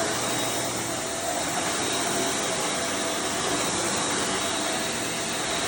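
A steady, loud broadband whir of a vacuum cleaner running continuously with no pauses while cleaning an office.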